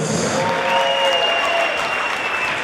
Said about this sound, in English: Ladies and gentlemen, let's give them a big round of applause.